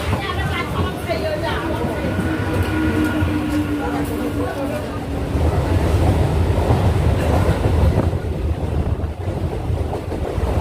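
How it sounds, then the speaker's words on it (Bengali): Loud rumble and rattle of a local train pulling into a crowded Kolkata-area platform, a brief horn tone early on, wind buffeting and people talking throughout. "ট্রেন ঢুকে গেছে"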